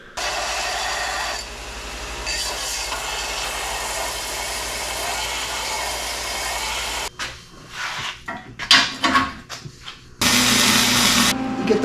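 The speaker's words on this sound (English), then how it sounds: "Now I gotta go sand these up so that I can weld them onto that thing." Steel gusset triangles for a Jeep Comanche rear 4-link shock tower are sanded with a power tool, giving a steady loud abrasive whine for about seven seconds, then a few short bursts and another sustained run.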